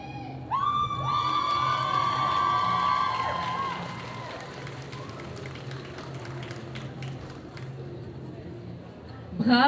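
A crowd cheers and applauds a contestant at a cosplay competition, with a loud burst of shouting and clapping early on that fades into a softer crowd murmur, then a sudden noise at the very end.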